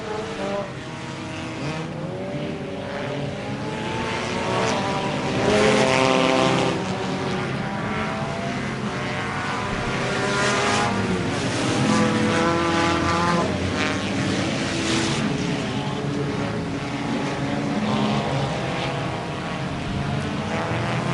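Demolition derby cars circle a dirt track at an eve-of-destruction event, engines revving and droning at a distance in overlapping waves that rise and fall over about twenty seconds.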